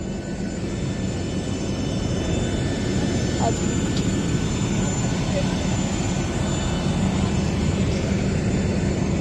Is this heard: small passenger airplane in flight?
yes